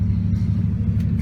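Train slowly pulling out of Pinjarra station, a steady low engine rumble heard from on board, continuous and close with no talk.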